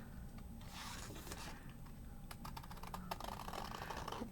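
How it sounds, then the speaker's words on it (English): Paper fussy cut by hand for a mixed media craft kit, heard as close, quiet, continuous scratchy snipping and rustling with a few sharper ticks and no speech. "I'm just going to fussy cut it"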